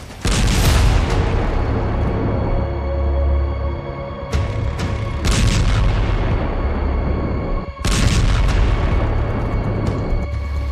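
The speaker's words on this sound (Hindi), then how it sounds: "बेरूत में भीषण धमाके, मारे हिजबुल्लाह के 30 कमांडर।" Heavy explosions from Israeli bombing in Beirut, with several deep booming blasts and broadband rumbles recurring in bursts over roughly ten seconds, loud and distant-sounding, without speech.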